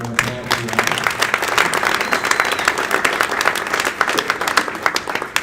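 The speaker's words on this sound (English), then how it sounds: "so let's give a round of applause for that" People at a school board of education meeting applaud, with distinct individual claps audible in an uneven, fairly close patter, and a brief voice at the very start before the clapping takes over.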